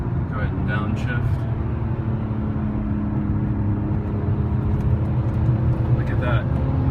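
An E46 BMW M3 engine drones steadily from inside the car while downshifting on a driving line, a constant low rumble that stays loud and even throughout, with people talking faintly over it.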